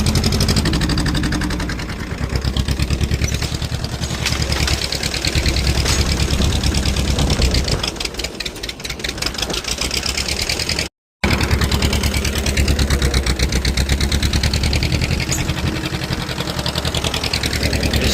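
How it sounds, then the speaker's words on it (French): An old Farmall tractor engine runs hard under load to burn out carbon deposits, a loud steady near mechanical drone with rapid knocking pulses that holds almost unbroken, dipping briefly only once near the end. "Alors là, je fais du décalaminage du farmal."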